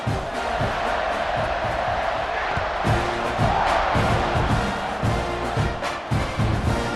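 A stadium crowd roars in the College Football 26 video game. The noise is a dense, continuous, loud wash of cheering with scattered whoops and thumps. A commentator's voice runs underneath.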